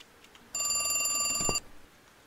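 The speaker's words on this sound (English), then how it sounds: "What's a phone ringing?" A telephone rings in the video game The Cat Lady, a bright electronic trill with steady harmonic tones that holds for about a second before cutting off, with a short sharper click near its end.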